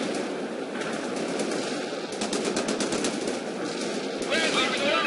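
Bradley armored vehicle returning gunfire in the World in Conflict video game, a dense, continuous clatter of rapid shots loud throughout, with sharper bursts near the middle and end.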